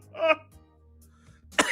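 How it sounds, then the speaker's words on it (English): A short throat-clearing cough near the start, then a quiet pause with faint hum, and a second harsh cough burst at the end. "I've been coughing all day."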